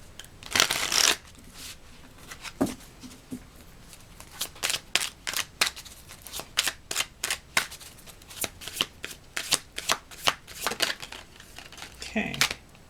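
Tarot cards are shuffled by hand in a quick series of sharp riffles and slaps, close and fairly loud, with a voice speaking briefly at the start and end.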